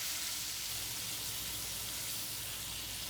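Cubed steak browns in a frying pan with a dense, even sizzle of hot oil, close and constant for a few seconds with no talking.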